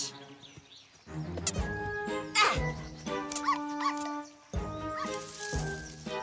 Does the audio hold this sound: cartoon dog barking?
yes